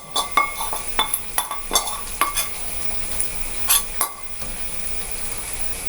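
An egg and pea mixture sizzles gently in a pan on low heat, a soft steady hiss with repeated sharp scrapes and taps of a utensil stirring against the pan.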